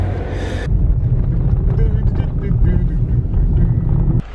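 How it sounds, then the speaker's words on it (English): Strong wind on a winter hike in Torres del Paine, Patagonia, roaring steadily against the microphone, loud and buffeting throughout, with people talking over it. "Oh, the wind is so strong"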